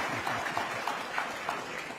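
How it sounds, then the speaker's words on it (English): Applause at a town hall event, a continuous wash of clapping heard from some distance, fairly soft and even throughout. "let's give them a round of applause"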